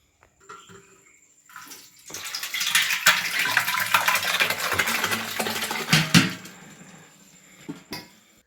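Cold water poured into a large pot of set curd for churning butter for homemade desi cow ghee; a steady splashing pour runs for several seconds, then tapers off, with a few clinks of the pot.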